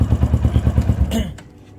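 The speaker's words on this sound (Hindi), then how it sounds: "ये बाइक जो है ये तकरीबन 60 एम्पेयर्स तक का करंट लेती है, तो फिर सेल्फ स्टार्ट होती है।" A motorcycle's electric self-starter, running on a lithium battery and drawing about 60 amps, cranks in a fast rhythmic chug for about a second, then stops abruptly with a click, close and fairly loud.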